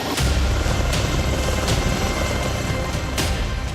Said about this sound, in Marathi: चहूबाजूनी पाण्याचा वेढा होता, त्यामुळे ग्रामस्थांना हेलिकॉप्टरच्या साहाय्यानं रेस्क्यू केलं गेलं.